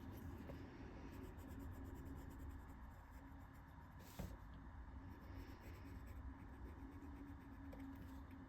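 A Class Gear gold colored pencil scratches steadily across paper in continuous faint strokes while coloring crowns on a coloring-book page, quiet and close with a soft low hum behind it.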